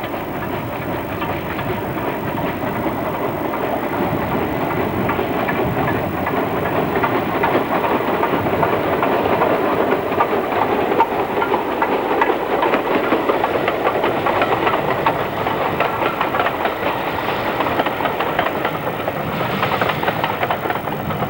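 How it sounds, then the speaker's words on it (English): A train on the North Yorkshire moors railway descends the gradient into the remote Newtondale valley, giving a continuous engine drone with faint rail clatter that swells slightly midway, heard alone without talk. "trains descend into the remote valley of Newtondale"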